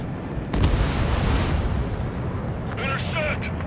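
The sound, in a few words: missile launch and explosion in the video game Ace Combat 7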